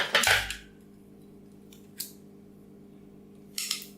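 Pinking shears with a zigzag blade, from IKEA, being handled: a loud snip and clatter at the start, then two quieter clicks and rustles, with no speech.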